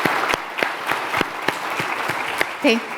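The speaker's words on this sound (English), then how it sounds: "And again, a round of applause." Applause from a round-table audience at a talk on AI and digital accessibility, a steady patter of many hands with a few sharper claps, fairly close and filling the short stretch with a brief voice near the end.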